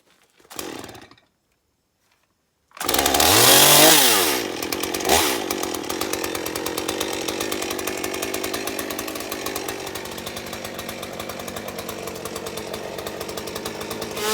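A chainsaw cutting timber for a timber-framed woodshed sounds a brief burst, falls silent, then roars loudly at high revs and settles into a long, steady, buzzing cut close by.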